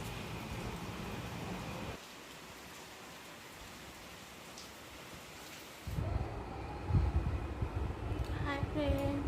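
Morning rain falling outside, a steady broadband hiss of rainfall that drops in level for a few seconds and then comes back louder, with a few scattered knocks and faint rumbling in the background.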